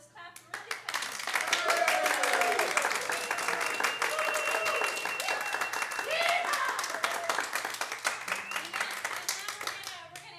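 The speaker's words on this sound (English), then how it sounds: "let's clap really fast" An audience claps rapidly and steadily at a radio hour show, a dense fast patter of many hands that swells and holds for several seconds, with a voice and scattered whoops faintly mixed in.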